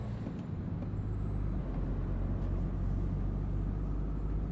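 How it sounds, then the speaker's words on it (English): A truck slowing down on its retarder, a steady, loud, broad roar with a low rumble and a faint high tone above it, holding constant throughout like a distant jet engine. "Slowing down using the retarder sounds like the jet engine."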